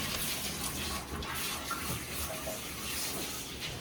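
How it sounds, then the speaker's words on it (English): Running water soaks a dog during its bath at a grooming session, a faint, steady splashing and gushing stream that continues without a break. "we need to making him completely soaked with the water"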